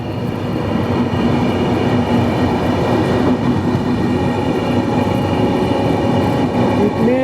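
Capital Express 13247 passenger train running from Kamakhya to Siliguri, a steady loud rumble of wheels and carriage noise with rhythmic rail clatter, heard close from inside the coach throughout.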